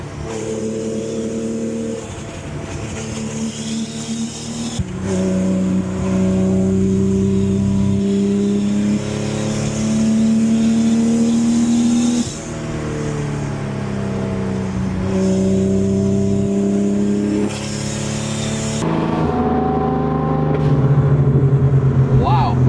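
A wide-body RUF Porsche accelerating flat out on a mountain road, its engine revving loud and close through repeated rising pitch sweeps and gear changes, with voices talking over the roar.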